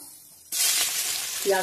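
Onions drop into hot oil already holding dried red chillies and kalonji, setting off a sudden loud sizzle that continues steadily after a quiet start, with a brief voice at the very end.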